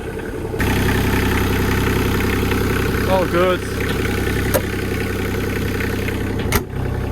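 A new digger's heavy diesel engine idles steadily nearby, a low rumbling drone with a few clanks and a brief spoken remark partway through.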